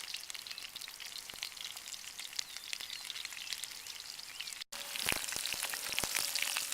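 Leftover peppers frying in a pan on an overnight camping trip, a steady close sizzle with soft crackles and a brief cut partway through, after which the frying grows slightly louder.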